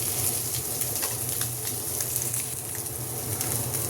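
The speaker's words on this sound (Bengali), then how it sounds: "তাওয়াটা যে গরমটা আছে সেই গরমের মধ্যেই এটা ভাজা ভাজা হয়ে যাবে" Kakila fish fries in a hot pan, giving a continuous soft sizzle and crackle at low volume with no talking.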